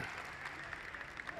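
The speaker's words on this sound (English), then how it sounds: "let's have a round of applause for the team" A museum audience applauds a glassblowing team after a demonstration, a brief, steady patter of clapping heard at moderate distance with faint talk mixed in.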